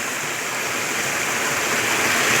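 A fast-flowing stream rushes in a steady, loud, broadband hiss at close range, with no voices and no clear splashes standing out from the flow.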